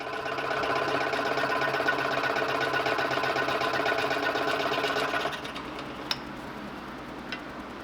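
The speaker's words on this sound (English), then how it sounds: "Then I'll cut out the shape on the scroll saw" Scroll saw cutting a shape out of wood, a fast, even buzzing reciprocating drone for about five seconds that then stops, leaving quiet room tone and a couple of small clicks.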